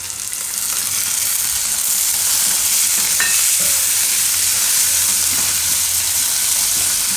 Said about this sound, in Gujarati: તો એમાં હવે ટમેટાં નાખી દેવું.